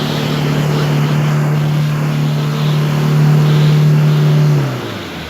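A Toyota Fortuner 4x4 engine holds a loud, steady low drone while pushing through water, swelling slightly near the end before dropping away, with no talk over it.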